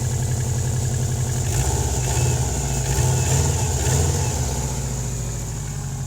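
A Subaru WRX turbo engine with a mechanical throttle linkage runs loud and close, its steady idle rumble rising into a slow, swelling rev and then easing back.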